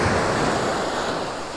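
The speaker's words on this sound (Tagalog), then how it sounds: "enjoy natin yung paligid, yung tunog ng alon" Steady rushing surf rolls onto a Zambales beach, a continuous broad wash of breaking waves with some wind buffeting the microphone, close and fairly loud throughout.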